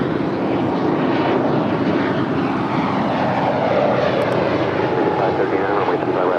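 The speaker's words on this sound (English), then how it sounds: "It's an A320neo. It's the next departure." An Airbus A320neo takes off at LAX, a steady loud broadband engine roar that holds through the whole stretch, with radio voices talking over it.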